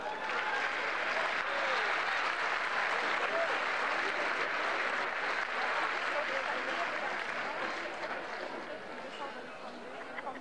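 Audience at an artists' gala in a hall breaks into sustained, even applause, loud at first and tapering slightly toward the end.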